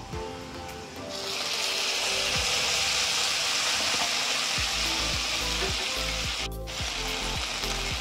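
Soy sauce hits a hot pan of garlic noodles, and the sizzle rises to a loud, dense hiss that holds steady with faint stirring underneath and no talking.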